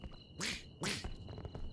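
Duck in the video game Repo quacking twice in quick succession, fairly faint under a low game background hum.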